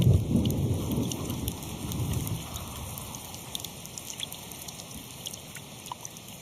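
Rain pours steadily onto surfaces with a low rumble of thunder at the start that fades, leaving dense patter and scattered drips.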